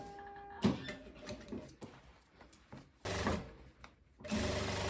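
A sewing machine topstitching a tailored blazer, running in short bursts of steady mechanical whirring separated by pauses and handling noises, close and moderately loud.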